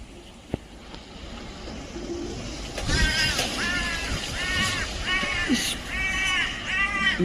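Crows cawing in repeated harsh bursts from trees during a storm, several calls overlapping at moderate distance above a steady roar of strong wind.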